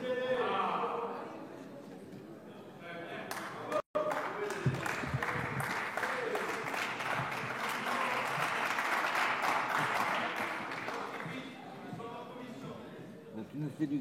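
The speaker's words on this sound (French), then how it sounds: "la droite t'applaudit à fond" Members of parliament applaud in a chamber, a steady wash of many hands clapping that carries on for most of the stretch, with voices talking beneath it and a brief dropout partway through.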